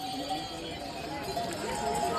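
Horses' hooves clip-clop on a mountain trail along the Hemkund Sahib pilgrimage route at a point where the horses stop, with irregular, fairly close hoofbeats under a voice talking.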